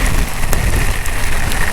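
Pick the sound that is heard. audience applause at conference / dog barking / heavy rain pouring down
heavy rain pouring down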